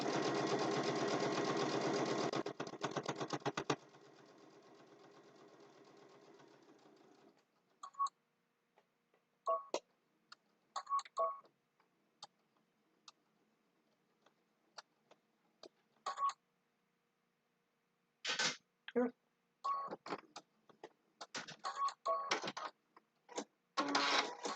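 A sewing machine stitches forward and back across fabric for a zippered boxed bag, first a steady whirring run of stitches, then a slower stretch, followed by scattered clicks and short bursts close by.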